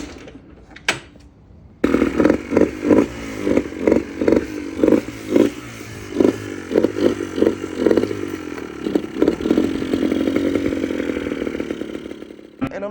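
A 2002 Yamaha Blaster ATV engine sputters to life after a kick-start, then revs in a string of sharp, loud bursts that settle into a steady, buzzing two-stroke idle close by.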